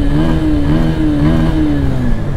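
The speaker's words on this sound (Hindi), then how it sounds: "इंजन नोट भी काफ़ी सही आ रहा है गाइस" A 2023 Bajaj Pulsar N150 motorcycle engine runs close by with a steady, even hum and an unchanging low note that holds loud for the whole stretch, with no one talking.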